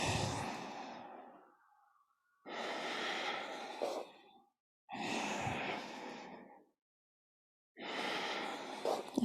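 Slow, deliberate exhalations during a yoga session, each a long soft breathy rush lasting about two seconds, separated by quiet pauses; four breaths in all, close and moderately loud with no talking over them.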